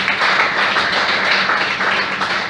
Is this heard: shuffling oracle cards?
no